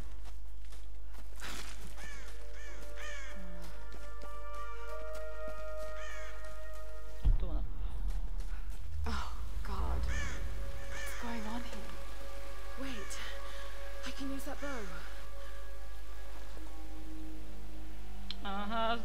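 A crow caws several times in Tomb Raider (2013), clear calls over light rain and footsteps in the game, while someone talks at points over the game sounds.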